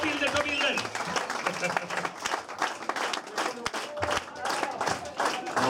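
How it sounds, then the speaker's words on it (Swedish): Audience applause at a Stockholm comedy contest, a broad, steady wash of many hands clapping that carries on throughout, with crowd noise and some voices underneath. "Håll i applåden!"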